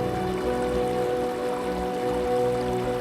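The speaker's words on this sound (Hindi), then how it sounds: "और इसी विलेज के पास से गुजरती है ये बास्पा नदी" Baspa river, fed by snowmelt, rushing past Chitkul village in the Himachal mountains: a steady, even roar of flowing water with no talk.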